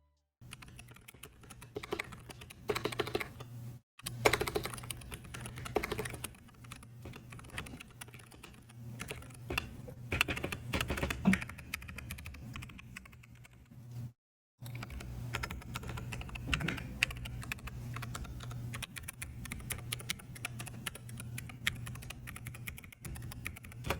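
Fast, steady typing on a Glorious mechanical keyboard, with dense runs of close, crisp key clacks that pause briefly twice and then resume. No one speaks.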